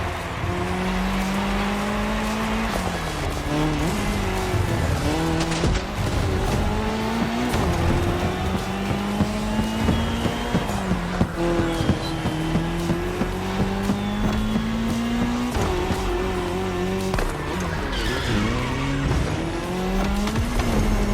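Cars race flat out on dirt in The Crew Motorfest, engines revving loud and continuous with shifting pitch as they change gear, tires squealing and skidding on the loose surface throughout.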